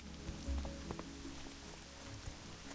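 Steady rain falls in a wet forest under a canopy, a soft continuous patter with scattered drops and faint tonal ambience, fairly quiet and without speech.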